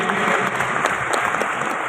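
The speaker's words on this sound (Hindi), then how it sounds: "तालियां होनी चाहिए यार हमारे अरहम भाई के लिए" An audience at a Daraz summit event claps in a brief, even burst of applause, steady and fairly close, with no talk over it.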